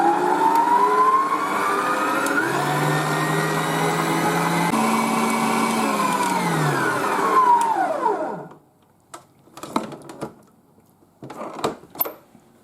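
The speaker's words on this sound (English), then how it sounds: "you have to whisk again for another 5 minutes on a very high speed until it becomes elasticated" An electric mixer whisks rum baba dough at very high speed, a loud sustained whine with shifting pitch that winds down and stops, followed by a few clattering knocks.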